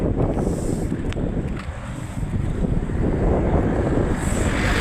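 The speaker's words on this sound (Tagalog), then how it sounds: "Oy, lakas ng hangin." Strong wind roars and buffets the microphone continuously, a dense low rumble with gusty swells throughout.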